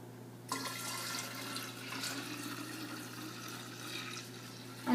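Kombucha tea is poured into a jar with a steady, continuous splashing trickle that starts abruptly and runs for several seconds, ending in a louder clink or splash.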